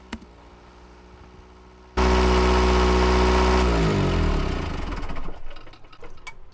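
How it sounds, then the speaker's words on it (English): A diesel generator engine suddenly roars to full, steady loudness, then its pitch sags and wavers unevenly as the revs hunt and surge from fuel filters run dry, close by. "you'll hear the engine start surging"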